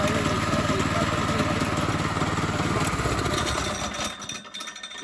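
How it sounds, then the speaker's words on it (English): A loose piece of a golf cart's broken drive chain rattles and clanks against metal beside a running small engine, a steady loud mechanical clatter that fades near the end. "now it's the big little chain part clanking against the metal part"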